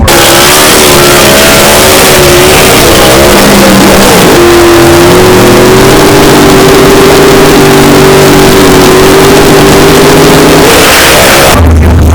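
A backup engine in a drag racing car runs loud and close, revving up and settling into a high steady roar with a shifting pitch before cutting off near the end, alone with no voices.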